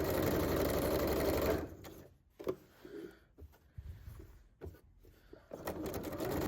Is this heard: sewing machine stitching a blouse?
yes